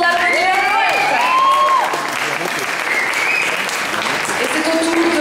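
Audience applause and cheering for a slam poet at a poetry slam competition, loud and sustained throughout, with a few whoops and voices mixed into the crowd noise.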